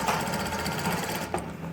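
A sewing machine runs a steady, continuous stitch through fabric from an old sari, sewing a palazzo; close and even, with a brief break near the end.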